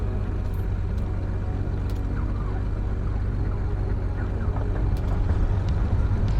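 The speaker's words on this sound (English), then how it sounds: "Sounds like a good start on the second engine." The second engine of a propeller aircraft starts up in a flight simulator, flying over Northern Norway, with a steady, loud low engine drone that continues evenly, alongside a few faint clicks.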